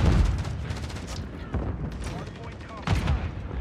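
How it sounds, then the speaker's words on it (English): Grenade blasts and gunfire crackle in a first-person shooter match, several sharp bursts over a few seconds, with game sounds and voices in the background. "That's a great nade out of Octane"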